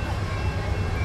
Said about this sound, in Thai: ถ้าเพื่อนๆได้ยินเสียงรถไฟเข้าไปนะ